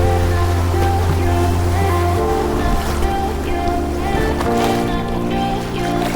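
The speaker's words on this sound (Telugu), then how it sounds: "So this is the beach." Steady, loud surf rolling in at Blue Whale Beach in Udupi, a continuous wash of breaking waves on an empty shore with a low droning hum beneath it and no talking.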